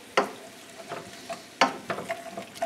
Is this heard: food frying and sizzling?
yes